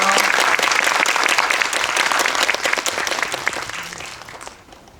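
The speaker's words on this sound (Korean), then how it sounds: "박수로 환영해 주세요." A film audience bursts into sustained, lively applause as actors step onto the stage for a Q&A after a re-release screening of the film Drive My Car; the clapping stays loud, then gradually fades away.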